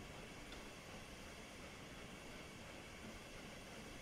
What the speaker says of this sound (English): I think I've seen this train before